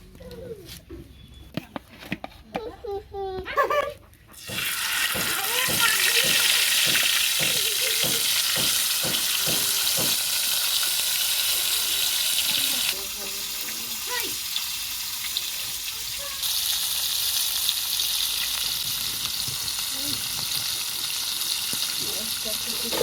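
Katla fish frying in hot oil on a tawa, a loud steady sizzle that starts abruptly after a few seconds of clatter and continues throughout, easing slightly partway through.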